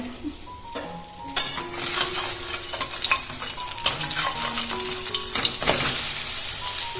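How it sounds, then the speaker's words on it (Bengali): Onion fritters frying in oil over a low flame, a continuous bright sizzle with clinks and scrapes of a utensil against the pan and short tonal squeaks, close and fairly loud. "লো ফ্লেমেতে আমি একদম বড়াগুলো ভাজি"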